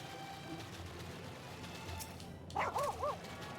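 A dog companion barks in the video game Final Fantasy XIV: Endwalker, giving three quick, fairly clear yips late in the clip over a dense, steady bed of game music and ambience.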